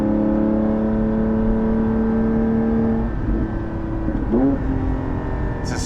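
Porsche 718 GT4 with a Soul exhaust heard from inside the cabin, a steady loud engine drone holding pitch before easing off, then a brief rev blip and shift near the end.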